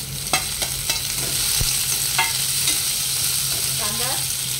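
Onion hits hot oil already frying with green chilli, coriander and curry leaves, giving a loud, close, continuous sizzle with a few sharp stirring clacks, and a brief voice near the end.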